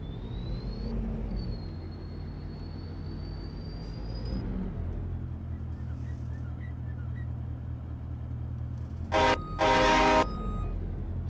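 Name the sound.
train horn in video game Farming Simulator 22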